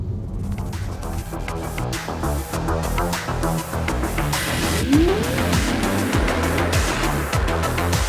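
A Volkswagen ID.3 electric car runs loudly and steadily, with a rising whine as it accelerates hard and a brief tire squeal partway through.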